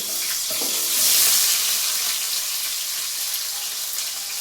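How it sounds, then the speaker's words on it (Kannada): Tempering spices hit hot oil for a village-style country chicken curry, a loud continuous sizzle that swells early and then settles into a steady crackle. "ಎಣ್ಣೆ ಕಾದಿದೆ. ಒಗ್ಗರಣೆ ಮಾಡೋಕ್ಕೆ ಹಾಕೋಣೀಗ."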